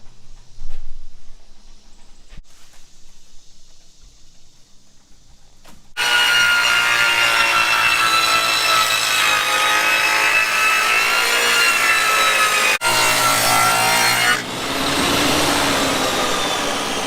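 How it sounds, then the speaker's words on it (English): Table saw fitted with a dado blade cutting a groove into 1x12 wood board for wrapping a header; a quiet start with faint handling, then a loud, steady whining cut lasting several seconds that drops slightly near the end. "the DADO blade on the table saw and put that joint onto a 1x12 of the same material"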